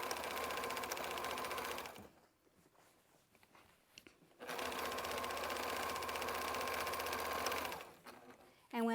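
A sewing machine stitches a strip quilt seam in a quilt-as-you-go project, running in two steady, even bursts with a pause between, close and fairly loud with no talk.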